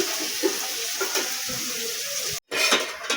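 A lid set onto a pot of dried fish curry, with soft metallic pot clinks over a simmering hiss, then a brief silence and the hiss returning, no voices.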